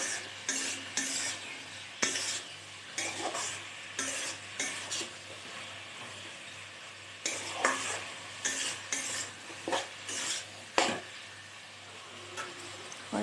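A spoon stirs frying sim chorchori in a pan after cumin powder and chili are added, giving a soft steady sizzle with repeated scraping and clinking strokes against the pan, close and fairly quiet.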